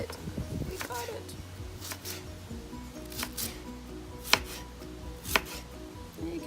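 A knife cuts through peeled jicama on a board in a series of soft, scattered cuts with a couple of sharper knocks, close up, under a faint ongoing background.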